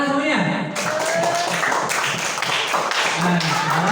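In a classroom, students clap their hands together in a short burst of applause, with voices talking over the clapping throughout.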